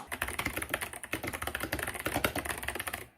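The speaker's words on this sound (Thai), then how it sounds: "กดแล้วเสียงมันจะประมาณนี้แหละ เสียงมันจะคลิก ๆ หน่อยนะครับ" Rapid typing on an 8BitDo Retro Mechanical Keyboard C64 Edition fitted with clicky white switches, a close, steady stream of crisp keystrokes with no talk, stopping abruptly near the end.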